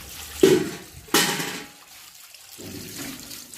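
Water pours into a bucket in two loud bursts, each followed by a gurgling trickle, with a quieter run of flowing water after a short pause.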